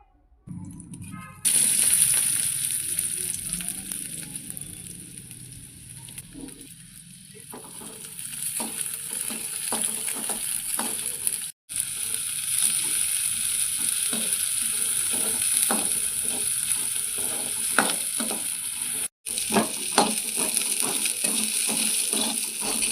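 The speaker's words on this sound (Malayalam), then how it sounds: "രുചിക്ക് ചുവന്നുള്ളി നെയ്യിൽ താളിച്ച് ചേർക്കാവുന്നതാണ്" Shallots sizzling in hot ghee as a tempering for kanji, a loud close continuous frying hiss with crackling pops and occasional stirring clicks, running steadily after a quiet start with two brief cuts.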